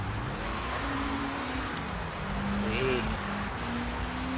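A front-wheel-drive Opel Astra Coupe in the racing game Sega GT Online hums at a steady engine pitch that rises and shifts slightly mid-run, kept under a voice talking throughout.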